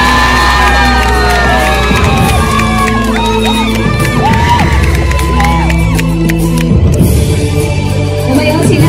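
A live audience cheers, whoops and shouts loudly for a pop singer as she is welcomed onstage at a Chengdu garbage-sorting ambassador ceremony, with a dense crowd roar running throughout and children's shrill shouts rising above it.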